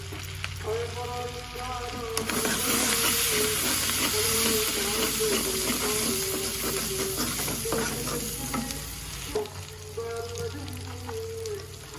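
Garlic and ginger paste frying in a hot pan for a potato and egg curry, a loud steady sizzle with spatula stirring and scraping, fading briefly near the end, no voices.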